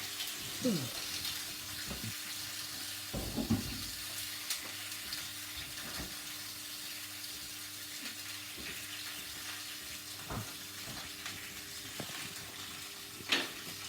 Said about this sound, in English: It's a bit sizzly. Right, I'm just going to sear these.